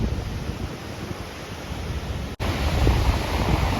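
Heavy monsoon stream water at Anjuruli rushing and crashing with steady, dense roar, loud and close, swelling slightly toward the end with a brief dropout midway.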